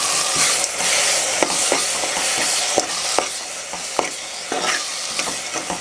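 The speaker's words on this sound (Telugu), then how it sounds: "ఇవన్నీ బాగా కలిసిపోయేలా కలుపుకోవాలి." Coriander powder, chilli powder and salt are stirred into a sizzling fish curry mixture in a pan, with close, loud frying and repeated scraping taps of a spoon against the vessel.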